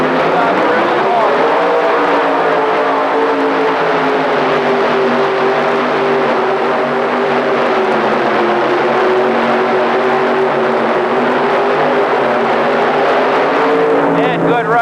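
A 5200-class modified tractor at the 1985 Indy Super Pull roars at full power from the start, a loud, steady, harmonic-rich engine drone that holds throughout. An announcer talks over it.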